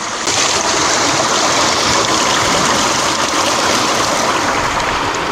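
Water rushes loudly through a gravity dredge fitted with a 1.25 inch nozzle on a river bedrock site, a constant close roaring wash that holds steady from start to finish.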